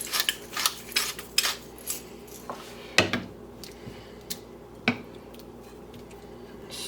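A spoon stirring freshly ground black pepper into shepherd's pie filling: a few clinks and scrapes against the pan, close by, with a couple of sharper knocks and quieter stretches between them.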